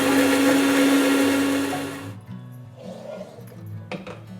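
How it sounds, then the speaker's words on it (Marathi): A kitchen mixer grinder whirs loudly and steadily while grinding green chillies with garlic and cumin, then cuts off abruptly about halfway, leaving quiet room sounds and a few faint clinks. "हे आता ही मिरची वाटून घ्यायची मिक्सरमधून ना?"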